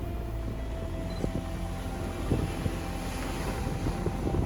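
Big sea waves roll in along the waterfront in Palermo, Sicily, a continuous broad wash of surf and churning water mixed with gusty wind noise on the microphone, steady and fairly loud, with no voices.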